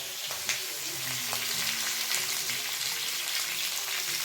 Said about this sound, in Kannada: ಹಾಗೆ ಈರುಳ್ಳಿ, ಇದಿಷ್ಟನ್ನು ಹುರ್ಕೊಂಬಿಡೋಣ